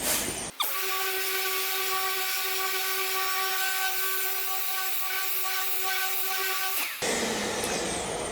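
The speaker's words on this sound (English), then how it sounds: "Just going to sand the crap out of it." A power sander works the paint on a GMT400 454SS replica pickup truck with coarse 40-grit paper, a loud steady whine with bright harmonic tones holding for about six seconds, then cutting off abruptly.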